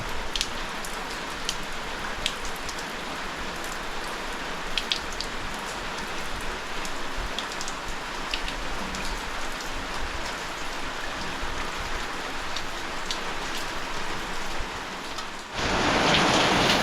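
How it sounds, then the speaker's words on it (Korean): Heavy rain pours down a rain chain at a house under construction, a dense, steady hiss of water with scattered close drips, growing louder and brighter near the end. "비가 많이 오니까 이렇게 되네요."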